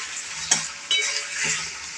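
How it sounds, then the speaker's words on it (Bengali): Chicken pieces frying in butter in a pan for a spicy chicken starter give a steady close sizzle, with a sharp utensil clink and a brief scrape partway through. "দেখুন বাটারে এটা খুব সুন্দর ভাজা হয়ে এসছে।"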